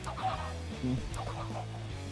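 Chickens cluck in a video game, a mass of fowl in a farm pen, with overlapping low clucks and brief squawks forming a steady, busy din close by.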